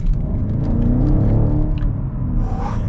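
A 2021 BMW X5 M50i engine pulls hard under near-full throttle, a loud, steady low rumble and rising whir that carries close and unbroken for several seconds with no talking.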